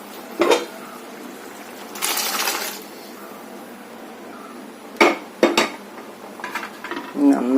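Metal scrapes and clinks against a pan as chickpeas are stirred, in a few separate bursts over a quiet background hiss.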